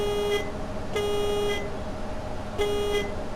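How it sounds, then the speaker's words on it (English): A bus horn honks three times, each blast starting strong and trailing off unevenly, over a steady engine rumble. "It starts off strong and then it kind of fades off in a weird way."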